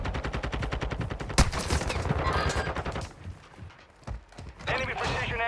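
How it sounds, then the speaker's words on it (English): Rapid bursts of automatic gunfire rattle steadily from the Modern Warfare 2 video game, a dense stream of shots with one sharp louder crack, then a brief lull before firing resumes, with voices talking over it. "You're getting shot at."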